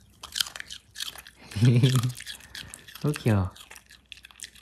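A pet crunches and chews a treat up close, with short bursts of biting noise, while someone talks affectionately over it.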